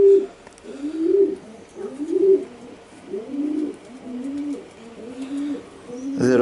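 A racing pigeon from a Romanian breeding loft coos repeatedly, with steady rolling calls close by and nothing else competing.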